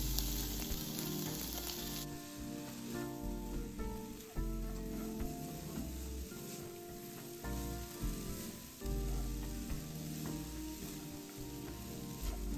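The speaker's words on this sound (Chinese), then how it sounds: "600克沙葛，切丝后再一起加入爆炒" Shredded jicama is tossed in with dried shrimp and carrot shreds and stir-fried hard. A steady, close crackling sizzle mixes with intermittent stirring scrapes for the whole stretch, without speech.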